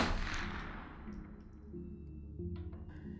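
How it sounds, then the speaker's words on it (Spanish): A gunshot sound effect in a Spanish-language crime podcast: a sharp blast at the start decays into a long ringing tail, with faint metallic clinks afterward. "recibió el primer disparo."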